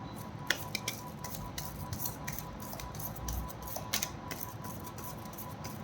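A deck of tarot cards being shuffled by hand, giving a steady run of close, crisp riffling and rubbing snaps with no talk over it.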